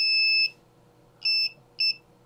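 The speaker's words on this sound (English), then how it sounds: "I've also added a buzzer here." An ESP32 buzzer triggered by an infrared obstacle sensor gives three shrill electronic beeps: a long half-second tone, then two shorter ones, loud and clear over a faint hum.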